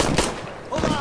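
FAMAS rifle fire in a first-person shooter video game: two short bursts of sharp gunshots, close and loud, separated by a brief pause.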